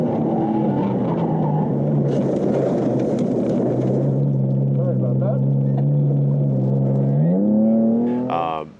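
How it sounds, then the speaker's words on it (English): A BMW E46 race car at Road Atlanta roars steadily as it runs off the track at turn 10A into the gravel trap, with a loud engine drone and grinding rumble that drops in pitch and then rises near the end. "I went blowing off 10A right into the gravel trap"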